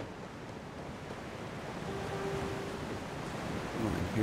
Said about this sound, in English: Oh, and here's a waterfall.